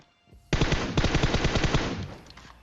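Close, loud automatic fire in the mobile battle royale shooter PUBG Mobile: one rapid, rattling burst of many evenly paced shots for about a second and a half, then a short fading tail, with no speech.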